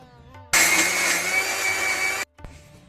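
A mixer grinder whirs loudly while grinding jackfruit batter, a steady, dense motor roar that starts abruptly, runs for under two seconds and cuts off, followed by a faint clatter.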